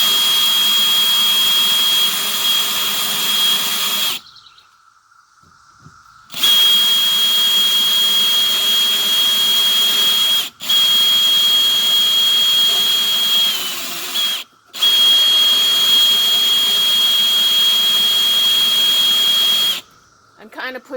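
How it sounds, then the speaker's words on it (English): A power drill with a dull bit bores a hole in a table top. It gives a loud, high-pitched whine in long bursts, broken by short pauses. "If you're wondering why my drill is wiggling"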